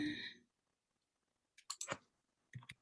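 A few quick clicks of keyboard typing come in two short bursts after a brief sound at the start, close and crisp with quiet gaps between.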